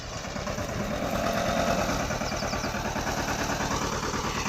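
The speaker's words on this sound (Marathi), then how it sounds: "आता ट्रॅक्टर खाली करताना दाखवायचं बघा." A tractor engine idles with a low, even rumble and regular chugging pulses throughout, with no talk.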